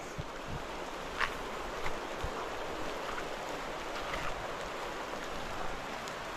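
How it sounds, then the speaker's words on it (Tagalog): A river on a steep mountain trail gives a faint, steady rushing wash of water, continuous and distant, with a few small splashes or knocks and no talking. "pero meron dong ilog."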